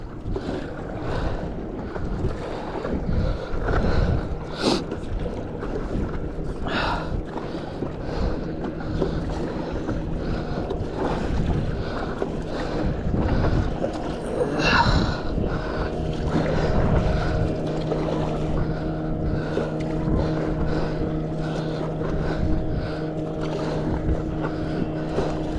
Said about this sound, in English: Comes a boat.